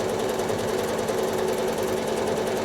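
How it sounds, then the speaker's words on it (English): Sewing machine running continuously while quilting wiggly lines on a pinwheel quilt block, a loud, steady, fast mechanical hum and chatter with no pauses or speech. "So here I'm going to get to about this point and stop, rotate, and continue stitching it from left to right."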